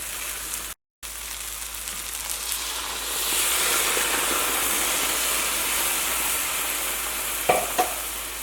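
Tomato curry with ground paste sizzles and bubbles in a pan, a loud, continuous hiss that swells partway through, with a few soft stirring knocks near the end.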